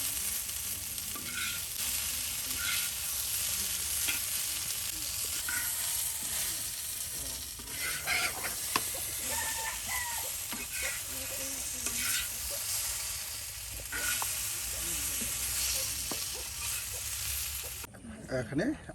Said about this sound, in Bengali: এভাবে আলু তার সাথে পটল একসাথে ভেজে নিয়ে যদি রান্না করা হয়